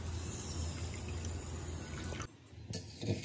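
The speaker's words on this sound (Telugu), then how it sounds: "దాంట్లో వాటర్ వేసి" Water is poured onto half a kilogram of sugar to make gulab jamun syrup, a soft, close trickle and splash that breaks off briefly and then resumes with faint drips.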